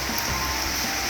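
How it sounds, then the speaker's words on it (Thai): Steady rain pours down outdoors, a dense, even hiss that holds constant throughout without pauses or other sounds. "วันนี้ฝนตก"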